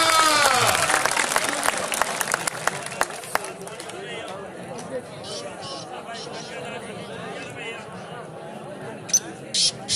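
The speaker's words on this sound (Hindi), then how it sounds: "तालियां" Clapping from a stadium crowd at a match bursts out loudly at the start and then fades into murmuring chatter and scattered voices.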